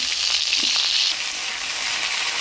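Potato pieces and black cumin seeds are stirred in hot oil, giving a bright, loud, continuous sizzle with faint crackles, heard alone at close range.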